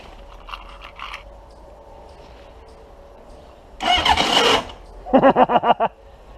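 A motorcycle with a failing starter clutch makes starting attempts: a long rough grinding crank burst, then a rapid series of sharp chugging pulses after a quiet stretch.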